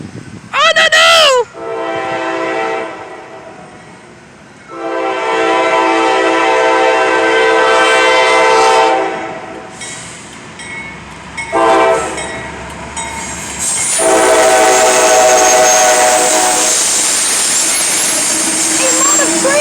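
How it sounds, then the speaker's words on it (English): Norfolk Southern freight train rolling by at a rail location in Elkhart, Indiana, its loud horn sounding in long harmonic blasts several times, while the rumble of passing cars continues underneath and excited voices call out over it. "Norfolk Southern going by now!"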